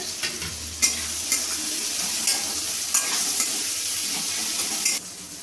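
Diced potatoes fry and sizzle in a wok as they are stirred, a steady close hiss with a few sharp scraping knocks from the stirring utensil.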